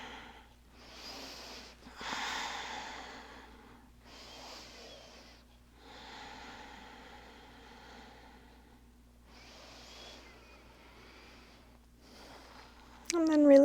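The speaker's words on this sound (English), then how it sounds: "deep breaths" Slow, deep breathing during an online yoga class, a series of long airy inhales and exhales at an unhurried pace, close and moderate over a low hum, ending in a brief sharp noise.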